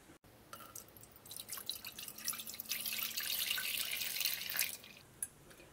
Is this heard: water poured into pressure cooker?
yes